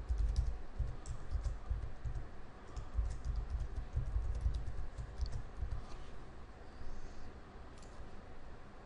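Computer keyboard typing as a name and strong password are entered into a new Exchange 2010 mailbox, with steady rapid key clicks through the clip, close and moderately quiet, with no talk.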